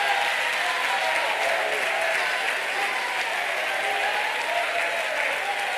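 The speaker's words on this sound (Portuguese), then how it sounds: "Vamos aplaudir com fé a Jesus." A church congregation in Recife claps together in sustained, even applause during an evening worship service, a dense wash of hands with no voices standing out.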